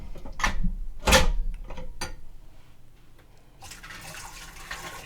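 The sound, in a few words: dumping hot water from jars back into the Nesco canner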